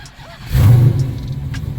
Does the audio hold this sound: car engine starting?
yes